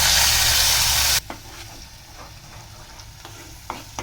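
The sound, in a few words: tomato paste sizzling in ghee and oil tempering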